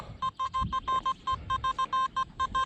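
Repeated short electronic beeps from a metal detector sweeping a beach, each tone signalling buried pull-tabs. About a dozen clipped, evenly paced pulses sound close and clear over a low rumble of wind or surf.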